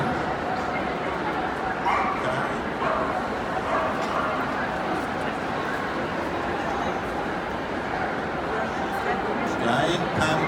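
Dog barking and whimpering during an agility-style display at Crufts, where dogs scramble over an obstacle and return, heard over steady crowd noise with a commentator talking throughout.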